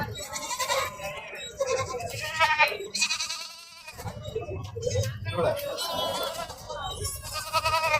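Young goat kids bleat repeatedly at a busy rural goat market in Tamil Nadu, their wavering cries close and overlapping while people talk nearby throughout.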